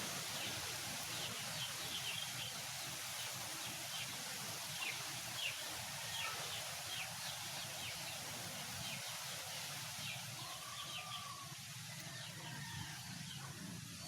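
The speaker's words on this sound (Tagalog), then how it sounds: "Malakas ang hangin po rito." Strong wind blows steadily outdoors in a rural cooking spot, a continuous loud broadband roar with leafy rustle and faint bird chirps over it, no talking.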